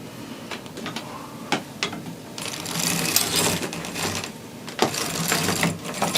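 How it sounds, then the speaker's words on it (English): Sock knitting machine cranked around, giving close, rhythmic mechanical clacks and rattles of needles that swell and ease across the clip, with no talk. "So I'll continue to knit around on that, make sure everything's knitting correctly."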